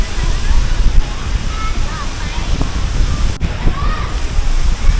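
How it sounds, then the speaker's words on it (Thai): Water splashes and sloshes steadily at a children's pool area of a hotel water park, with the busy wash of moving water and voices of people in the background throughout. "นี่ก็เป็นสวนน้ำเด็ก"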